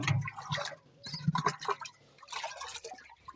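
Water is drawn from a barrel into a container at home, an uneven run of gurgling pours and splashes, close and moderately quiet.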